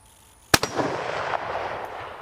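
A single .308 rifle shot, loud and close, a sharp crack with a quick echo and a long rolling decay afterward; no one speaks.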